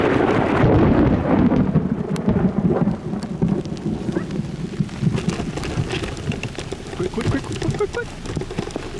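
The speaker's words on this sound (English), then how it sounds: "This lightning is incredible" Storm-chase thunderstorm with thunder from nearby lightning, a heavy broad rumble that stays loud throughout amid steady rain, with faint voices underneath.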